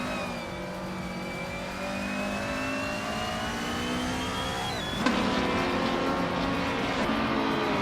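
Racing cars, among them a 2018 BMW 125i Sport, roar around a video game track. Engines rev steadily and climb in pitch, and a gear shift drops the tone sharply partway through.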